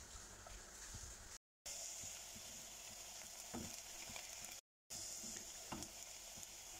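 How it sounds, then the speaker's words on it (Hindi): Chopped onion frying in hot oil for a potato and capsicum sabzi, a steady close sizzle and crackle throughout, broken by two brief silent cuts. "कटी हुई प्याज शामिल कर देंगे।"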